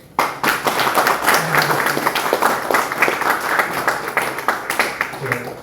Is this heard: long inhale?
no